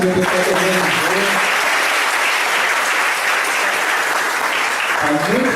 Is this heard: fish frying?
no